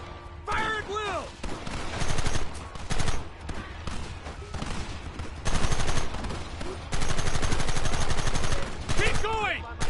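Gunfire in the video game Red Dead Redemption: rapid rifle and pistol shots crack in dense, overlapping bursts throughout, loud and close, with shouted voices in between.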